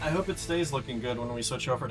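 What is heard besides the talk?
No everyday noise stands out behind the speech.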